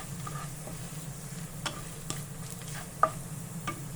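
Dried red chillies frying with garlic and chana dal in oil, a quiet steady sizzle broken by a few sharp pops and stirring clicks, close and without speech.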